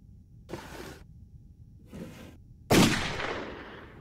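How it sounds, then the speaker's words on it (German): A single sharp gunshot-like blast in the video game Layers of Fear rings out loudly, its echo trailing off, preceded by two softer whooshing swishes. "Das klang wie ein Schuss."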